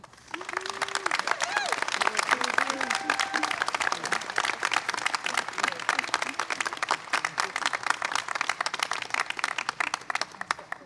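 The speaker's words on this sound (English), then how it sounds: "Please give another round of applause for this wonderful group of individuals" Sustained applause from a large commencement audience, steady dense clapping throughout with a few voices and cheers mixed in near the start, continuing evenly for about ten seconds.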